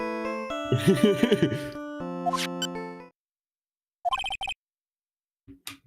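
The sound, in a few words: Steel Samurai children's show phone ringtone in Phoenix Wright video game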